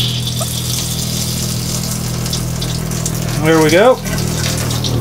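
An RV water pump runs with a steady hum while antifreeze gushes from a faucet after air clears from the line from the jug, sputtering and surging briefly near the end, with a short spoken remark over it.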